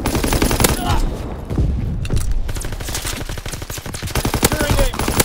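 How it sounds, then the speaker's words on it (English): Rapid machine gun fire from an aircraft strafing run in the Call of Duty: WWII video game rattles in loud, dense bursts of shots, with game voice callouts mixed in. "Call for a strafing run."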